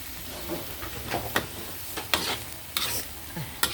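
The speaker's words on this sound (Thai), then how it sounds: "แล้วก็ผัดแห้ง ๆ" Holy basil stir-fried over high heat for pad kaprao, a steady close sizzle broken by sharp scraping strokes of a spatula against the pan every second or so, with no talking.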